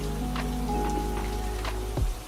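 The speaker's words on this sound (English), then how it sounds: "These babies just got out of the rain for a quick shower." Rain falls steadily on a group of Calathea houseplants set outside on an overcast, humid day, a dense continuous patter with occasional louder drips close by.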